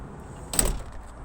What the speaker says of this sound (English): Opening the sliding door,